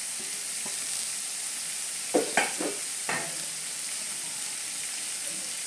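Finely chopped raw banana fries in a hot pan with a constant, soft sizzle. A few sharp clinks and scrapes of stirring break in near the middle.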